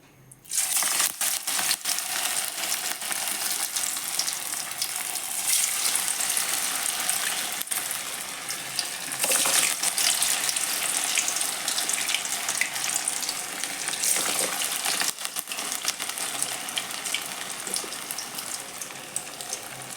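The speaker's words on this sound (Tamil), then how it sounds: "இப்போ கடாயில் எண்ணெய் எண்ணெய் ஊற்றி காஞ்சிருச்சு நம்ம இந்த வடையை எடுத்து போடலாம்" Bread vada frying in hot oil in a kadai, a dense continuous hiss and crackle of bubbling oil that holds loud and even throughout.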